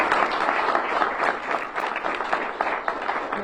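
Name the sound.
audience applause at bill signing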